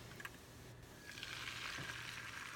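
An egg sizzles in melted butter in a frying pan with a soft, steady hiss that swells after a second. It stays fairly quiet throughout.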